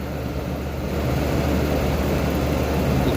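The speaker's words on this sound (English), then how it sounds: "Excuse the noise, it's the fan" A constant, loud electric fan whir fills a workshop space, a steady broadband rush with a low droning hum underneath and no pauses.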